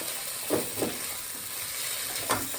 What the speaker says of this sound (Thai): เราก็ใส่หมูลงไป แล้วก็ ที่เหลือนี่ผัดให้มันเข้ากัน